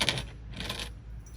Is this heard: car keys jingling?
yes